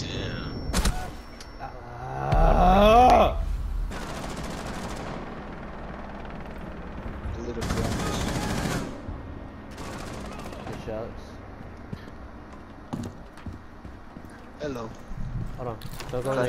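Gunfire from a cop gun in a tactical video game, heard as short bursts and scattered shots at moderate distance, mixed under ongoing voice chat among players.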